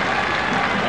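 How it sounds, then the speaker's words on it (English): Large crowd applauding at a college football game in a stadium, a dense steady wash of clapping that fills the short moment without a break. "Large crowd on hand,"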